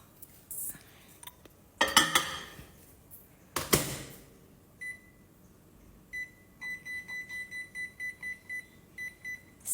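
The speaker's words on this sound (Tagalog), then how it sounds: "Balutan natin ng microwave plastic and then i-microwave natin ng 7 minutes." A microwave oven is set to heat sweet corn wrapped in microwave plastic: two bursts of clatter from handling dishes, then a rapid run of about a dozen short, bright beeps from the keypad, close and clear.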